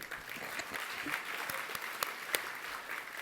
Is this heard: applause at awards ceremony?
yes